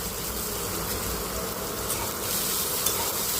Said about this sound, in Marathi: बघू शकता तुम्ही कांदा परततोय